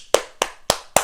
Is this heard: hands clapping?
yes